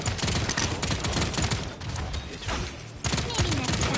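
Rapid, dense gunfire bursts fill a match of the hero shooter Paladins, continuous and loud with a brief dip before the shooting resumes, while someone talks over it.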